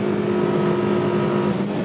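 A Nissan GT-R pulls hard in first gear, its engine note holding a strong, steady high-revving roar at close range with no break for a shift.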